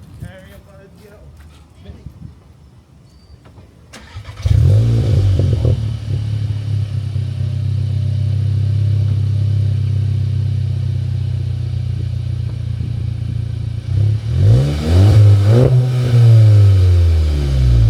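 An Infiniti Q50 engine fires up with a loud roar and settles into a steady, deep idle close by, then revs sharply a couple of times near the end; quiet rustling comes before the start.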